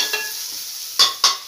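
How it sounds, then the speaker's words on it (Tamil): Onion and green chillies being sautéed in a pan for kara paniyaram, with a soft steady sizzle and two sharp scraping stirs of a spatula near the end, close and fairly loud, no voices. "அதுக்கப்புறம் லைட்டாக வதக்கிட்டு பச்சை மிளகாய் ஆட் பண்ணணும்."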